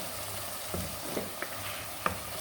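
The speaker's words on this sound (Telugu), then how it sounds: "ఉల్లిపాయలు, టమాటా ఫస్ట్ వేయించుకోవాలి." Onions and tomatoes frying in a pan for a Kerala-style chicken curry, a quiet steady sizzle with a few soft clicks and stirring knocks.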